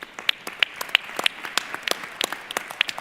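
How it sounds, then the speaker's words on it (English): Audience applause at a mining-industry forum in an auditorium: sparse, separate hand claps scattered over a soft background, moderately quiet and fairly close, with no talking. "if you can give a round of applause to Your Excellency and the winners of the program"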